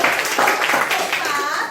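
A classroom of children claps hands together after a group receives its grade, a quick burst of many small hands close by, mixed with the chatter of young voices.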